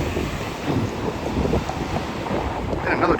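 Steady wind buffeting a microphone outdoors while driving in Burlington, a continuous low rumble with gusts swelling louder toward the end.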